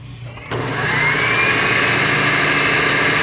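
An electric mixer starts up abruptly and runs steadily and loudly, working pastry dough for bear claws until it forms a ball, with a continuous motor whine throughout.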